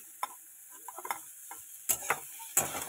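Food frying in a pan for a Bengali home-style dish, with soft sizzling and a few sharp scrapes and clinks of stirring, fairly close and quiet with no talk.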